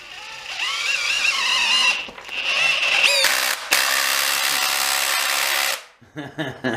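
A Makita HP332D 12V drill bores into hardwood with a whining motor, strains and squeals partway, then spins up harder and louder before stopping abruptly, followed by a few brief clunks.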